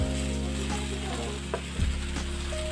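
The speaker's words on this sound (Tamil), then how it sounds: "இப்போ இதில் வேக வச்சு திருவின வாழைக்காவை சேர்த்துடலாம்" Grated boiled plantain stirred into onion sautéed with mustard seeds in a hot pan: a steady close sizzle with a few scraping stirs and a low hum underneath, no talking.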